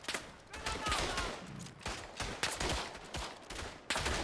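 Rapid gunfire from a machine gun in the World War I shooter Verdun, dense overlapping bursts and distant battle shots filling the whole span, with a voice faintly under the noise.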